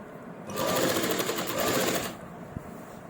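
A sewing machine runs a steady burst of stitching through kameez fabric for about a second and a half, then stops; it is close and fairly loud, with no talk over it.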